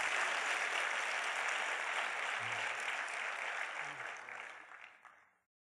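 A large audience at a public lecture breaks into steady, loud applause that holds for several seconds, then fades out to silence.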